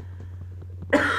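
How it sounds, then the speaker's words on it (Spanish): A single sharp cough, close and loud, bursts out at the end after a quiet stretch with a low steady hum underneath, from someone playing Minecraft hardcore. "Estoy con tos"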